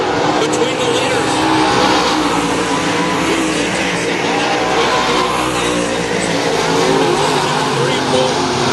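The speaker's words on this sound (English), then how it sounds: "Here coming to life in that Bob Pierce built race car" A Bob Pierce built race car runs on the track at Salina, its engine roaring loudly and continuously alongside other racing cars while an announcer talks over the noise.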